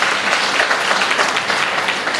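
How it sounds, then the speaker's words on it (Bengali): A seated audience at a Bengali business seminar breaks into sustained, dense applause, a steady roar of many hands clapping at once with no pause. "আপনাদের নিজেদের জন্য একটা জোরে হাততালি দেওয়া উচিত।"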